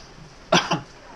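A macaw coughs twice in quick succession, close and abrupt, two short harsh bursts in an otherwise quiet room.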